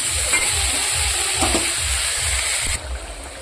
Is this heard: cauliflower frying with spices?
yes